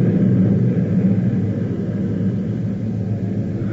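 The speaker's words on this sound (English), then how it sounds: "That was Zubansky's plane taking off" An airplane takes off as a steady, loud low rumble fills the whole stretch, a broad engine roar with no speech over it.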